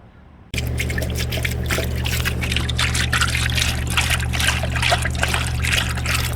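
Liquid pours steadily into a King Kooker outdoor deep fryer pot with the basket inside, starting abruptly after a brief quiet moment and then continuing as a loud, even splashing stream.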